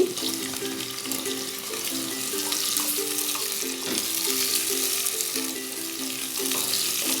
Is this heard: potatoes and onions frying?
yes